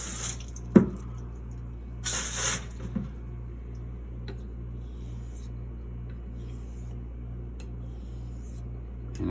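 Tap water runs steadily at a sink during straight razor honing on a Japanese natural stone, a continuous low rushing hiss with a few brief splashes and knocks near the start.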